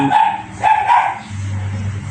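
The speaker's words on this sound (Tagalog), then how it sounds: "tahol ng aso" A dog barks in a short series of yips and barks at close range, with a steady low hum continuing underneath.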